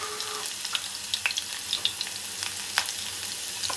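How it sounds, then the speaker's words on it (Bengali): Crushed garlic sizzling in hot oil in a kadai, a steady close crackling fry with sharp spitting pops scattered throughout. "এবার তেলের মধ্যে আমি একটু রসুন দেবো"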